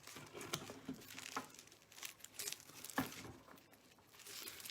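Scissors snipping through crispy baked tart pastry for a tomato and asparagus tart: quiet, irregular crunchy cuts and crackles close up, a few sharper snaps among soft rustling.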